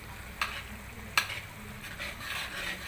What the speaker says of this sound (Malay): Kita kacau-kacau sehingga betul-betul masak petai dan juga bahan yang kita blender tadi